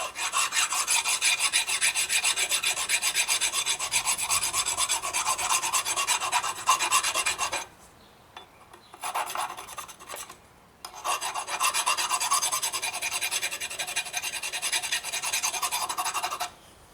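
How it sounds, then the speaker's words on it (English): Steady hand filing rasps across a shaft keyway during a Husqvarna YTH2248T lawn tractor transaxle teardown, close strokes in long runs with two brief pauses before filing resumes. "Just kind of file the keyway flat."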